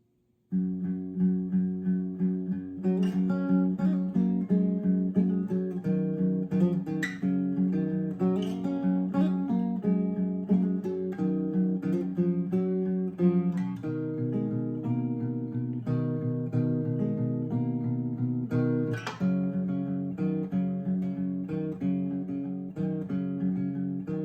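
Fingerpicked acoustic guitar plays a steady, flowing intro pattern, moderately loud and continuous, with no voices.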